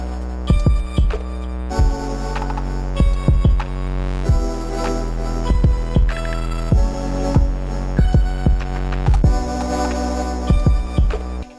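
An Elektron Octatrack crossfader sweeps in an echo effect over a looping electronic beat, with repeating, decaying pulses stacking rhythmically and loudly across the whole passage.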